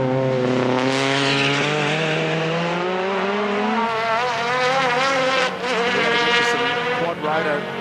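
A supercharged Honda K-Series engine in a time attack race car screams past on a flying lap, its rising and falling harmonic whine sweeping through the gears, loud and sustained, with a commentator talking over it.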